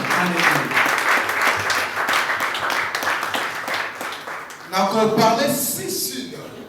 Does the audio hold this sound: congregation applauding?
yes